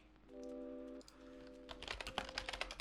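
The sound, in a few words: typing on a computer keyboard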